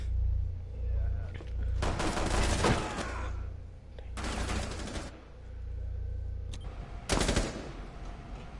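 Bursts of automatic gunfire in the Rainbow Six Siege video game, three loud rapid volleys spaced a few seconds apart over a steady low background hum, with occasional talk.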